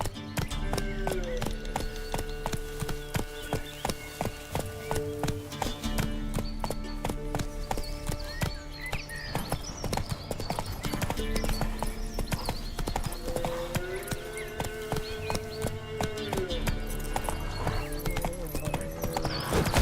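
Steady clip-clop of a galloping horse, Geralt's horse Roach in the game The Witcher 3: Wild Hunt, loud and continuous under game music and ambience, with no voices.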